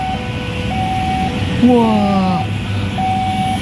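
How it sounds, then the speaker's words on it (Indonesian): The railway level crossing alarm at JPL 227 in Serang, Indonesia, sounds in steady, evenly spaced electronic tones. A brief chord-like blast slides downward midway, and a voice exclaims quietly once. "Ya, kita dengarkan baik-baik alarmnya."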